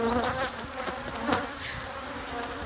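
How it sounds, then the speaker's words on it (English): Honey bees buzzing in a bee yard: a dense, close, continuous swarm drone with individual bees whining past, loud and steady throughout. "Reason being, the bees go after Amy."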